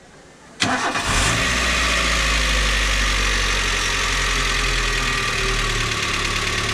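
A Maruti Swift car engine cranks and catches, then settles into a loud, steady idle close by. The battery was charged from a motorbike. Faint talk sits under the engine.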